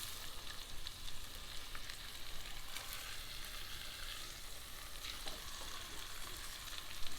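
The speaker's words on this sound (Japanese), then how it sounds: "鍋に当たってる面に油を滑り込ませて焼いていきます。" Bone-in veal sears in oil in a cocotte pot, giving a steady, even sizzle and frying crackle that runs throughout with no talking.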